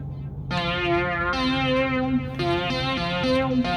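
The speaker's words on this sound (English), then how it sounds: "Yeah, there's some delay." Synth voice on a Deluge groovebox playing a monophonic melodic line with a delay effect, buzzy sustained notes repeating and echoing, loud and continuous with no talking.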